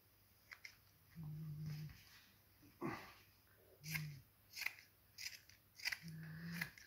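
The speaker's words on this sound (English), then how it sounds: "Just cut that excess off." Scissors snip close up through excess T-shirt fabric over a glued cardboard fez template, several short cuts spread across quiet moments, with a dog whimpering and growling softly nearby.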